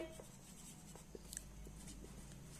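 Pen writing on paper during a class 7 math lesson, with short faint scratchy strokes in a quiet room and light background noise, no talk.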